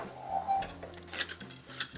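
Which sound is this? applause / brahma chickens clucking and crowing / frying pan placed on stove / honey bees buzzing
frying pan placed on stove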